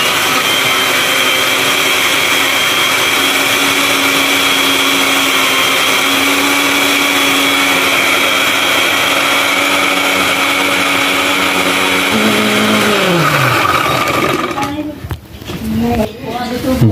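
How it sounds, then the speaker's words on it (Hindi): A blender grinds biscuits with milk for homemade ice cream, a steady loud whirring motor running for about twelve seconds before its pitch drops and winds down, with clattering and handling noises at the end. "ये भाई दूध डाल रहे हैं बिस्किट में और ग्राइंड करने लगे हैं"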